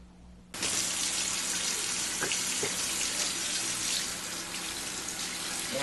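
Tap water gushes in a steady loud stream while dyed bucktail is rinsed in a sink, beginning abruptly and continuing without pause.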